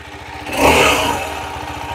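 A 2023 KTM 390 Adventure motorcycle fitted with an aluminium sump guard idles with a low, even engine thrum, then gives a short rev that swells and fades, with a faint metallic rattle beneath.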